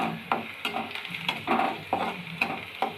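Food frying in a pan with a coconut or lentil powder mix, sizzling steadily while a spoon stirs it in repeated scraping strokes, close and moderately loud, with no voices.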